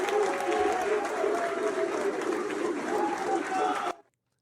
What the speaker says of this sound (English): it started off as like a fun little applause